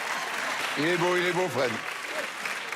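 Studio audience applause on a French late-night comedy show with a quiz segment, a steady wash of clapping running throughout while someone speaks over it in the middle.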